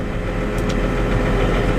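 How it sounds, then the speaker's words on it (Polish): A New Holland tractor with an Electro Command gearbox runs at a steady, close, moderately loud drone while shifting gears, with no voices over it. "ciągnik sobie zmienia biegi"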